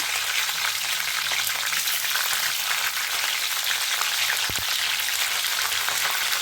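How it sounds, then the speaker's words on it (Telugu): Cumin, mustard seeds and green chillies crackle and spit in hot oil, giving a dense, steady, close sizzle with fine popping throughout. "ఆయిల్ వేడైపోయింది. ఇప్పుడు జీలకర్ర ఆవాలు వేస్తున్నాను. ఇప్పుడైతే పచ్చిమిర్చి వేసేస్తాను."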